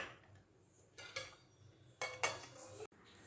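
A spoon scrapes and clinks against a bowl while mixing batter in several short bursts, with quiet gaps between the strokes.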